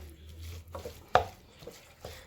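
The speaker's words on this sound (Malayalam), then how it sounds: "എന്നിട്ട് ഞാൻ ഇതൊന്ന് നന്നായിട്ട് മിക്സ് ചെയ്ത് കൊടുക്കുകയാണ്" A spoon scrapes and stirs Kerala-style chicken curry with soy sauce in a pan, giving a few separate close scrapes and knocks with quiet pauses between them and no voices.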